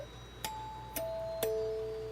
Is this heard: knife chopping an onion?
no